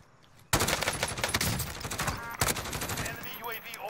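Rapid video-game gunfire, probably Call of Duty, bursts in suddenly and loud. Dense automatic shots and impacts continue almost without a break, with a short second onset, and faint voices sit underneath.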